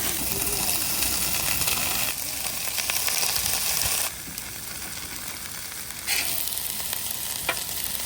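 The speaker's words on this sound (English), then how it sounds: "But Ty is cooking the meat right now" Meat sizzles and fries on a Blackstone griddle at a campsite, a steady loud hiss with shifts in intensity as it is stirred, with a person talking over it.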